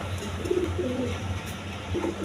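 King pigeons coo in soft, low, repeated calls, close by over a steady background hum, with no talking.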